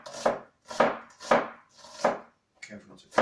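Onions being chopped on a cutting board for cooking, five or six loud, close knife strokes landing in a steady rhythm with short pauses between, with no talking.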